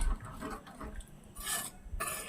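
A spoon slowly stirs vada pulusu, lentil fritters simmering in tangy tamarind gravy in a pot, giving soft rasping scrapes in a few unhurried strokes close by, with no one talking.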